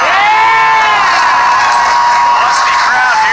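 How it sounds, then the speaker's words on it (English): Live audience cheering and whooping at a movie trivia Schmoedown match, a dense, steady roar of many voices with shrill shouts rising over it throughout. "Lusty crowd here today."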